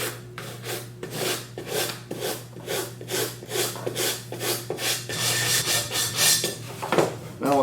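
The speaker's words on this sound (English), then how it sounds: "We'll sand it." Sandpaper rubs the tip of a wooden glider in about a dozen quick, even back-and-forth strokes, close and rhythmic with no voices.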